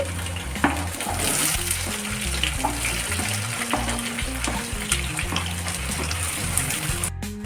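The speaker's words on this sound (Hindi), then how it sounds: "तो पहले हम इन सभी चीजों को अच्छी तरह से भून लेते हैं।" Chickpea masala base of green chili, ginger, garlic and onion frying in a pan: a steady, close sizzle with occasional stirring scrapes and knocks, and no talking.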